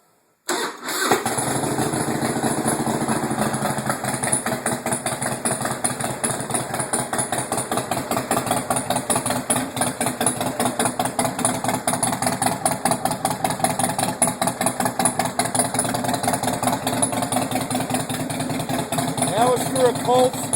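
A 2002 Harley-Davidson Fat Boy (FLSTFI) motorcycle engine fires up from a cold start and settles into a loud, close, lumpy idle with a steady pulsing rhythm that continues for about twenty seconds.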